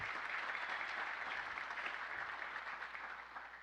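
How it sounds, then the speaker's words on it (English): An audience at a city's State of the City address applauds for a bank representative, with steady, fairly soft clapping from a crowd that slowly tapers toward the end. "A round of applause for that"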